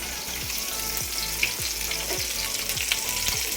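Close, steady sizzling and crackling of fish frying in hot oil, with a low repeating mechanical thump underneath at regular intervals.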